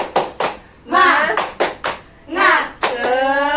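A classroom of children doing a rhythmic spirit clap, short bursts of clapping alternating with a teacher and children calling out together, close and lively.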